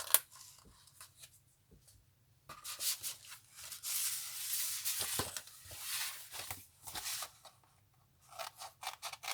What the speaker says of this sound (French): 2 secondes, je coupe mes angles. Donc vous faites ça aux 4 coins.